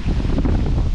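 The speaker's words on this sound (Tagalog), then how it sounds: "Pero sobrang lakas ng hangin." Strong wind at a camping spot in Lobo, Batangas, a brief loud buffeting rush of wind battering the microphone, low and dense, with no speech.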